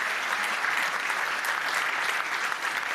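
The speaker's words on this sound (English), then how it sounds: "Can we have a round of applause, please, for Theo?" Audience applauding a keynote speaker named Theo at a digital disruption and BIM conference, a steady dense wash of clapping from a large crowd throughout.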